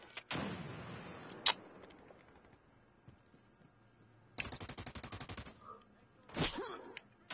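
Gunfire in an online shooter game, a loud opening burst and a sharp crack, then a quiet stretch before a rapid automatic volley and another heavy shot, sounding close and punchy with lulls between.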